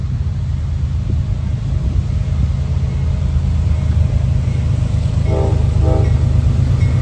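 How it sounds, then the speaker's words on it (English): A northbound manifest freight train rolls through Carlisle, Ohio on the old B&O line, its loud rumble constant and near, with two short horn blasts sounding late in the passage. "Horn salutes."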